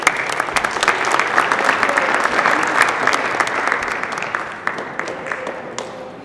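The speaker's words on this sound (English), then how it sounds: "A round of applause." A symposium audience claps steadily for several seconds, a dense indoor round of applause that slowly thins toward the end.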